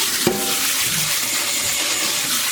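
Tap water pours in a steady, loud rush over beans and baking soda in a strainer, with one brief knock near the start.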